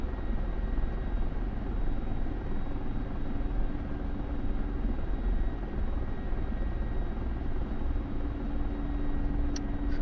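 A helicopter engine and rotor run in the DCS World flight game, giving a steady, dense, loud whine and drone that holds unchanged throughout, with no voices.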